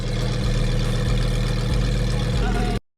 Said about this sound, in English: That car has got to be so loud.